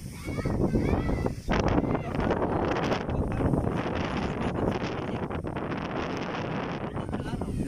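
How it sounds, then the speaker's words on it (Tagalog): Strong wind blows steadily across an outdoor spot, a loud, continuous rushing roar buffeting the microphone for the whole stretch, with people talking underneath. "Sarap ng hangin."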